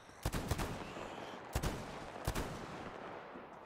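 Three sharp gunshots ring out from the player's weapon in Metro Exodus, spaced about a second apart, each a loud crack with a short tail, over a low steady game ambience.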